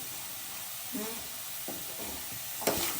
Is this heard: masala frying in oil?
yes